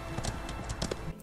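A video-game horse trots along with rhythmic hoof clops, evenly spaced and fairly quiet, heard alone with no voices.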